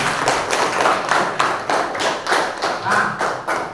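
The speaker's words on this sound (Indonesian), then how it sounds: "tepuk tangan dulu untuk temannya." A classroom of children clapping for a classmate, a loose rhythmic patter of hand claps in repeated bursts, close and fairly loud, with no talk over it.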